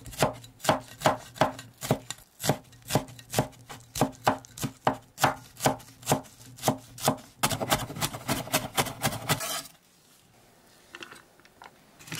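Rapid, rhythmic knife chopping of shallots on a cutting board, crushing and mincing, steady strikes that speed into a fast flurry before stopping, with a few scattered taps after.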